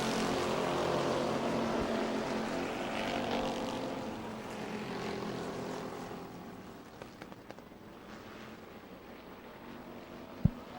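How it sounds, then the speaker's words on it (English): Stock cars race on an oval track at New Smyrna in a FASCAR event, a loud pack of engines roaring past on the restart, then fading into the distance. "Green flag from Ralph Miller. We're back racing"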